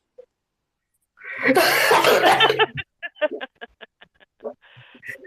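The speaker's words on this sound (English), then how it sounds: "I just laughed so hard I coughed instead." A burst of harsh coughing from a person laughing hard lasts over a second, followed by a string of short breathy chuckles and small coughs.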